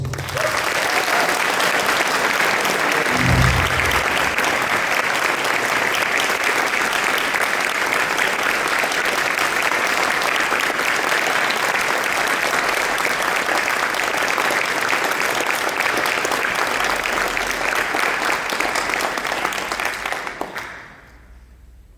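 Sustained applause from a church congregation fills a large sanctuary at a steady level for about twenty seconds, then tapers off and stops near the end.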